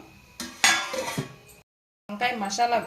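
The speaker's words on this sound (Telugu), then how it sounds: "మూత పెడదాం, ఎసరు తెరలనిద్దాం." Metal clanks and clinks as a lid is set onto a pot of cooking drumstick biryani, in two short bursts of rattling cookware separated by a brief silence.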